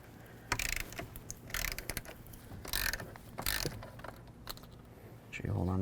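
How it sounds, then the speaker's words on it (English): A ratchet clicks in several uneven bursts as it loosens the lower seat belt anchor bolt inside a 2008-16 Chrysler Town & Country minivan, close and fairly quiet, with a louder metallic knock at the end. "we're going to remove this bolt right here for the lower part of our seat belt"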